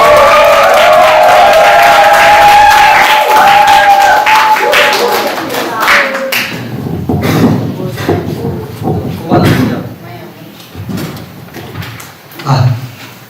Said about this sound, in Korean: 우리 강사분 나오실 때 격렬하게 환영의 박수 부탁합니다.